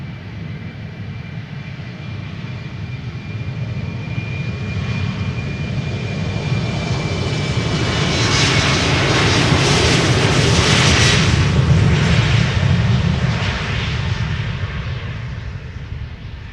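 An Embraer 190 jet takes off at Amsterdam Schiphol with a loud, sustained engine roar that swells and peaks near the middle, a thin whine riding over the low rumble, before slowly easing.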